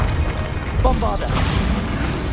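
A Bombarda spell blasts in Hogwarts Legacy, a loud booming impact with crashing debris and mechanical rattles, layered over ongoing game combat noise and voice.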